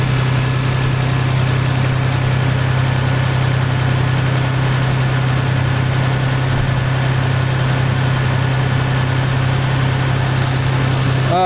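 Car engine running at a steady idle during a battery test with a Konnwei JDiag tester, a constant loud hum with an unbroken drone and no talking.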